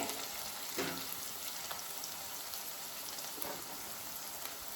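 Frying for a cabbage bhaji, a soft, steady sizzle at low level with a few faint stirring scrapes, no voices.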